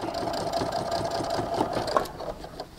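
A sewing machine stitches along a top stitch line on a tech charging station project, a steady, close mechanical hum with rapid stitch texture lasting throughout.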